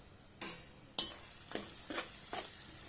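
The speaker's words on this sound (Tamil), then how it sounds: "நம்மளுக்கு தக்காளி நல்லா வதங்கி அந்த எண்ணெயெல்லாம் நல்லா மேலே பிரிஞ்சு வருது பாருங்கள்" Tomatoes sautéing in oil for a lentil-ball kuzhambu, a quiet sizzle punctuated by five evenly spaced stirring scrapes of a spoon against the pan.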